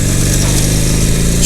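A motorcycle engine hums at a steady mid-pitch drone under light throttle, close and continuous, with no clear rise in revs.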